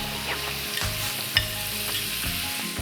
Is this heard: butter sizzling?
yes